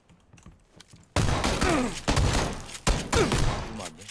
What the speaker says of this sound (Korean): 나 그냥 쏜다 그냥 쏘는 거야